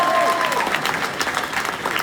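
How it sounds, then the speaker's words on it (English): Steady, loud audience applause at a tennis club's 100th anniversary celebration, a dense wash of clapping that fills the whole short stretch. "Just give it a round of applause."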